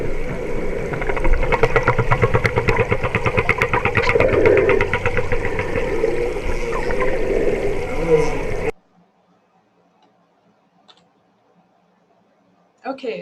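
Humpback whale social sounds, non-song calls, heard underwater as dense clicking, rapid pulsed buzzes and low grunts over an engine-like drone, continuous for several seconds before cutting to near silence with faint scattered calls.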